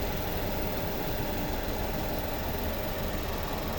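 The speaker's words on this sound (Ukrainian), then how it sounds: "Ось робота двигуна." A restyled Mazda 6 Sport from 2011 idles with its two-litre naturally aspirated petrol engine, 155 hp with a timing chain. The hum is steady, even and continuous, recorded close up with no talk over it.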